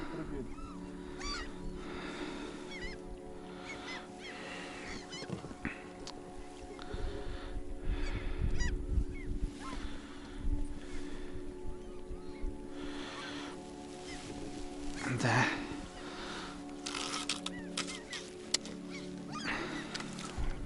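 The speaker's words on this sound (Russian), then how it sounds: "Чайки, блин, чудят." Seagulls calling over the water during boat fishing, scattered honking cries heard at a distance over steady water and boat noise, with a brief spoken word from a man.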